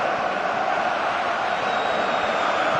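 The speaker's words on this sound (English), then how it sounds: "Crowd appreciates good football all round there." Football stadium crowd in a video game match, a steady, dense roar of many voices that holds at an even level throughout without clear peaks.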